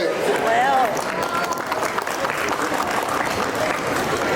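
An audience at a pop-up street magic show in a shopping plaza claps for a volunteer, a dense burst of applause filling the moment with crowd murmur underneath.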